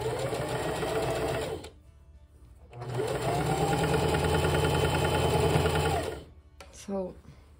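A sewing machine runs steadily, stitching quarter-inch seams on a quilt block in two long close bursts separated by a short pause, then stops, followed by a brief voice.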